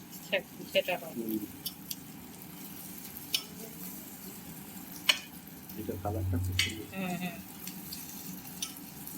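Onions fry in a pan while making Bengali egg masala toast, a soft crackling sizzle with scattered pops and stirring scrapes, with a voice talking quietly at times over the cooking.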